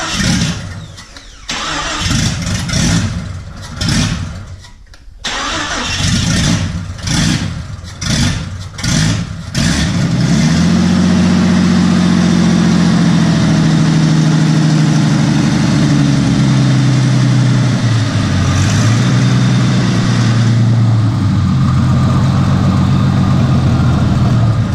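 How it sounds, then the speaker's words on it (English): A hydrolocked Jeep engine cranks in repeated stuttering bursts for about ten seconds, then catches and settles into a loud, steady idle with a slight rise in revs near the end. "we got the Jeep running"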